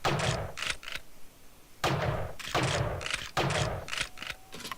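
Rapid bursts of revolver fire from fanning the hammer in a video game, tight clusters of sharp close shots in quick succession separated by brief pauses, with no speech.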